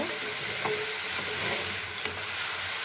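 Grated carrot halwa fries in an uncovered pan with its lid just lifted, giving a steady close sizzle, with a few soft scrapes and taps from stirring and no talking.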